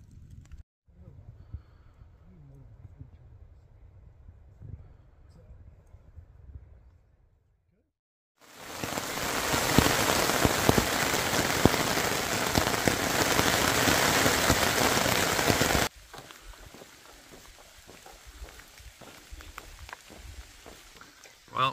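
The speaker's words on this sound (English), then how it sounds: "Well, it's raining again," Steady rain pours down in a dense, hissing wash for several seconds, loud and close, framed by quieter stretches before and after.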